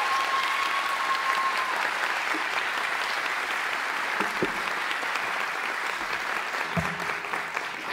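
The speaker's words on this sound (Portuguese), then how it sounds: "ela vai ser a pessoa mais aplaudida essa noite" Sustained audience applause at a concert, a dense wash of many hands clapping steadily for several seconds, with faint voices and a brief whistle in the crowd.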